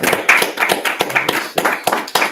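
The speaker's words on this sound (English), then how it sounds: "let's clap it up" Close, sharp hand claps ring out at an irregular pace, roughly a dozen distinct strikes in a couple of seconds, loud and alone with no talking.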